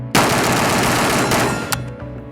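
A PSA 5.56 Krink rifle fires a rapid automatic burst at steel targets. The roar is loud and sustained for over a second, then a single sharp ring trails off.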